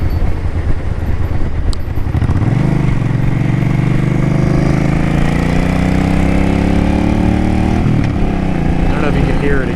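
A Suzuki Boulevard C50T cruiser motorcycle running louder than stock, its engine note rising and then holding a steady drone through most of the stretch, loud and close, with a brief dip and recovery near the end.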